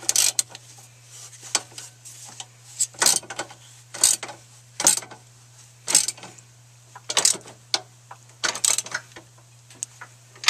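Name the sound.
turning a 14mm deep well socket to tighten a brace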